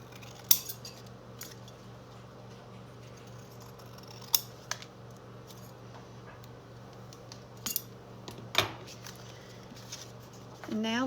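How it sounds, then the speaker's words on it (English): Large scissors trim excess from a glued junk-mail page in a junk journal, with a few sharp, isolated snips spaced seconds apart over a low steady hum and quiet handling rustle. "I'm going to grab my larger scissors and just trim off the excess."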